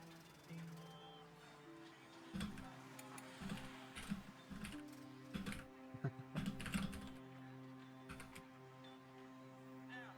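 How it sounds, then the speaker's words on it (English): Computer keyboard typing during an online tabletop game session, with irregular clusters of clicky keystrokes near the microphone over a low steady hum, and voices talking at times. "Is everyone on stream hearing all this typing going on?"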